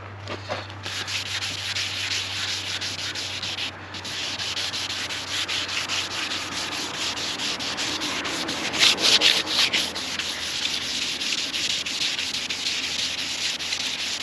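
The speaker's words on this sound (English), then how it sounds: "buffing pad and polishing pad and go through the different steps from like a heavy cutting on down" A buffing and polishing pad works over the gel coat of a Triton bass boat, a loud continuous rubbing whir that holds steady throughout, swelling slightly in pitch and intensity partway through, with no voices.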